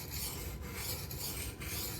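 Steady abrasive scraping of a T. W. Price Reyne knife with a MagnaCut steel blade being ground on a sharpening stone, a continuous close rasp with slight rhythmic strokes and no talking.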